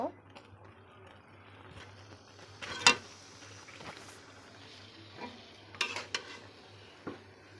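Mango pieces go into bubbling sugar syrup seasoned with chopped ginger: soft simmering and a few clinks and stirs, with a steady low hum beneath and a couple of sharper knocks.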